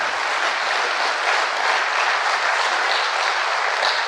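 A large audience at a spiritual talk in India claps for themselves, a dense, even roar of applause sustained throughout with no voices on top.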